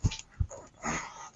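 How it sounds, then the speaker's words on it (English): A dog whimpering and scratching at a door, with two sharp close thumps followed by a longer whining sound, all close to the listener. "My dog's trying to break my door down."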